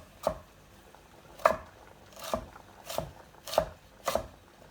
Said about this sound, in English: I'm just going to take my knife and cut right through that little stack